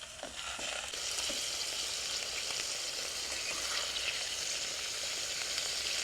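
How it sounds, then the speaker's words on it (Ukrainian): Steady, close sizzling of cutlets frying in a pan, a constant crackling hiss with a few faint clinks at the start. "Так, ось такі коклетки ми зараз їх сюди. Зараз будеш кварчать."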